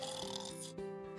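A cartoon albatross snores, a soft nasal, rasping drone with a tonal whistle, breaking briefly before a second snoring breath begins, heard quietly on its own.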